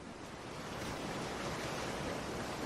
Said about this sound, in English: We'll be tuning into some ocean sounds.